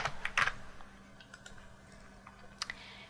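Typing on a computer keyboard: a quick cluster of close, light key clicks at first, followed by sparse scattered taps in a quiet room.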